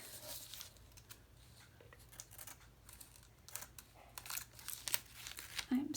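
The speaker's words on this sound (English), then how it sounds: "Come in with my big scissors." Scissors snip through crinkly plastic in a series of short cuts, with rustling and crumpling between them, close and fairly quiet.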